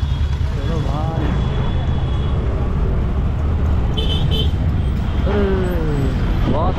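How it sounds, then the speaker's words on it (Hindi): Busy, loud road traffic on a congested street in Salalah, with a constant engine roar and several car horns honking in short bursts throughout. "यहाँ पर ट्रैफिक तो बहुत ही खतरनाक तरीके से"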